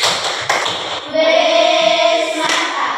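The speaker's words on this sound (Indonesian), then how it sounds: "Kalau begitu kita beri tepuk apresiasi." Classroom students give a short appreciation clap, rhythmic taps and claps close by, followed by a sustained tonal chant-like voice sound as the class joins in.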